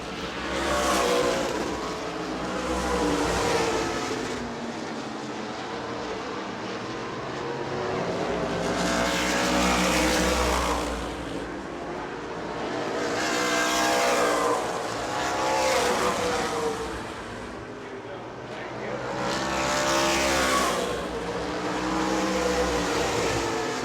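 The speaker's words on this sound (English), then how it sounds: "Four laps to go, 2 miles for car number 2, Brad Bowman." Race cars circle the oval at New Smyrna World Series, the engine roar swelling and fading in repeated passes as the pack goes by, loud and continuous with no talking.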